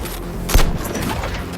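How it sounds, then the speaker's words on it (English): Heat vision blast in Suicide Squad: Kill the Justice League, a short searing burst that flares loud around the half-second mark over a constant rumbling battle bed, then trails off into crackling background noise. "Heat vision."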